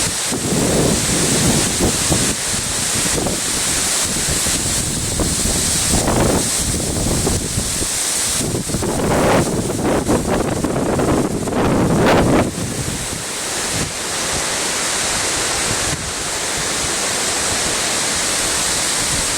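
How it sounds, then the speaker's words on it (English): Strong hurricane wind from Hurricane Sandy roars continuously outdoors in Baldwin, Long Island, with no rain, buffeting the microphone in heavy, rumbling gusts that swell and ease over nearly twenty seconds without talk. "It's just very windy out here."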